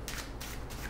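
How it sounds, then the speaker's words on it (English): A deck of playing cards is shuffled in a riffle, giving steady close rustling and fluttering for about a second with no talk. "So what we'll do is we'll shuffle the deck here."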